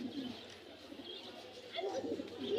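Pigeons coo and murmur in soft overlapping calls amid the steady crowd hubbub of a busy pigeon market in Mirpur, Dhaka, with faint background voices throughout.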